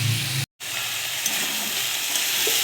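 Eggplant and onion stalks fry in a pan with a continuous, dense sizzle, close and fairly loud. The sound drops out for a split second near the start, then the steady crackle returns with faint stirring scrapes and no voices.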